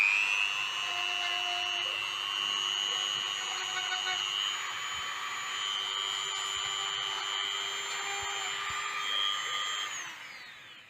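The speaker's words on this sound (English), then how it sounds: "Now there's a bit of method in my madness in using the Dremel." A Dremel rotary tool whines steadily at high speed for about ten seconds, a thin, piercing spin that holds its pitch with slight wavers before winding down at the end. No one speaks.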